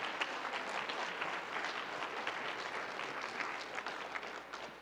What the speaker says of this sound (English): Can we give a great round of applause to all of our new members?